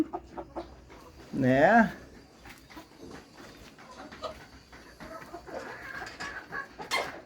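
Sussex chickens in their pen give one loud squawking call, followed by scattered soft clucks nearby, with a person briefly speaking.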